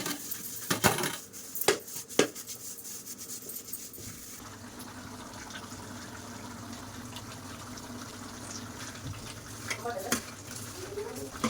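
A woman scrubs cooking pots after making jowar rotis: a few sharp metallic clanks at first, then a continuous scratchy scouring with occasional knocks of utensils.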